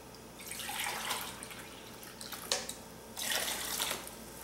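Vegetable broth and water pour into a pot for quinoa, a splashing liquid stream that rises and fades in two close bursts separated by a short pause, with a small clunk between them.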